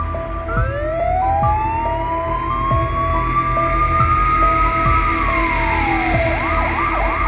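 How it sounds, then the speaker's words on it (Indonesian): A police car siren wails with long rising and falling sweeps and ends in rapid yelping cycles. It is loud and close over a low rumble of traffic. "Tiba-tiba ada suara sirine polisi"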